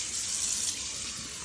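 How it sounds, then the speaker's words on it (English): Water running steadily from a faucet into a quartz composite sink, rinsing soap down the drain: a constant close hiss and splash, fairly quiet and alone. "just wash all that soap down the drain"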